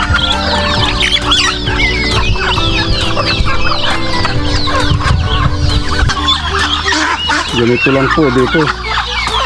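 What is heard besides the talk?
hungry farm chickens clucking before feeding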